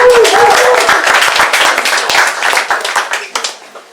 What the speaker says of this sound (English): Give her one more round of applause, Casey.